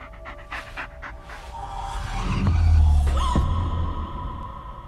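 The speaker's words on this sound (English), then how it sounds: "Just take the damn dog" A dog pants in the Blair Witch video game, quick breathy huffs under a low throbbing hum that swells and fades, with no talking.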